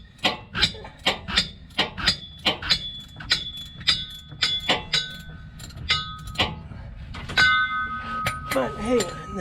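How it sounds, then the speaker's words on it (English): Metallic ratcheting clicks from a wrench turning the fuel filter on a Ford F-250 Powerstroke, a steady series of sharp close clinks in quick rhythm, followed by looser rattling and clinking near the end. "It's really tough when you can only get like an eighth of a turn each throw of the wrench."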